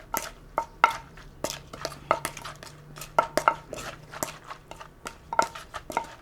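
Lao green papaya salad being pounded in a mortar, with irregular sharp knocks of pestle and spoon ringing close, a few scraping stirs between the strikes, and no voices.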